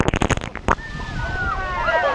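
Water splashes and sloshes over a water park boat ride. Excited voices come first, then a rushing wash of water builds and continues to the end.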